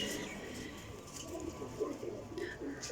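Pigeons coo in low, repeated rounded calls at a pigeon dealer's loft, with steady background noise underneath and a few higher chirps.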